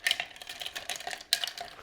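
A spoon stirs a holiday bourbon cocktail with a little cranberry in a glass, making rapid, light, close clinks and scrapes in an uneven rhythm, with no talking.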